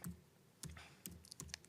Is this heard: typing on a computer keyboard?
yes